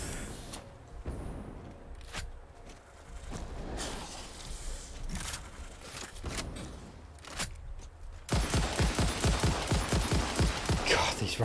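Rifle fire from the video game Satisfactory crackles in bursts of rapid shots, scattered at first and then a dense fast volley near the end, loud and up close with no talk over it.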